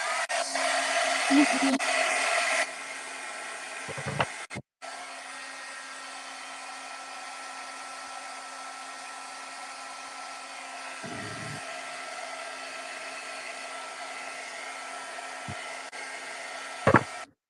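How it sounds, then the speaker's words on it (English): A heat gun blows with a steady whirring hiss while crafting, starting louder, then running on evenly at moderate level with a few brief clicks and knocks from handling. "here goes the glue gun, or the heat gun"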